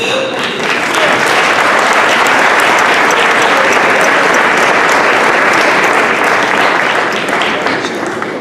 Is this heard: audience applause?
yes